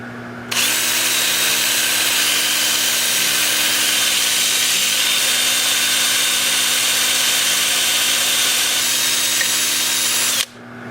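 Polishing heads run against a turned walnut hollow form on a lathe, producing a loud, steady motor whir with an abrasive hiss that starts abruptly and stops cleanly after about ten seconds.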